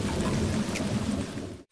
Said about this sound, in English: And it's actually raining!